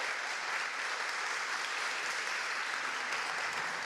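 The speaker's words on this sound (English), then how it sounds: "let's give Erica another big round of applause" Steady, dense round of applause from an audience at a scholarship event, honoring Erica, a continuous wash of clapping heard from a distance with no voices.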